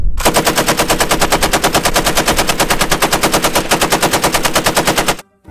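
A toy M60 machine gun sound effect fires a loud, rapid, evenly spaced electronic burst that runs nonstop for about five seconds, then cuts off abruptly.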